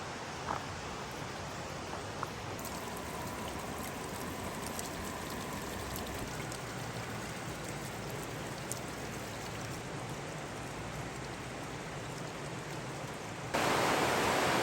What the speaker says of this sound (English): Tiny bit of rapids down there, y'all